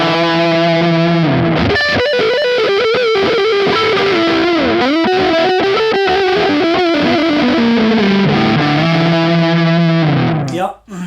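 A BOSS PS-3 digital pitch shifter/delay pedal processes a loud distorted electric guitar, producing sustained chords with gliding, wavering shifted pitches and choppy stutters before it cuts off abruptly near the end, with no talk.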